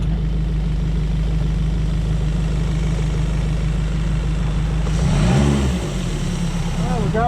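A Suzuki DF 90 A outboard motor runs at a steady, loud idle with a constant low drone, then a brief shift in the engine note near the end as it is put into gear.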